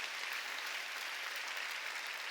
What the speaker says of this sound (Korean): 믿으면 박수치며 하나님께